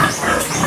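Large farm pigs grunt and snort close by in a steady, loud jumble of oinks, with no talk over them.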